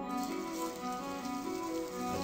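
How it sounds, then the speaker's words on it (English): Marinated chicken winglets, coated in garlic, sugar, salt and curd, fry in hot oil in a pan, giving a steady, dense crackling sizzle that runs on without a break and with no voices. "I just want to grill them first for pan frying."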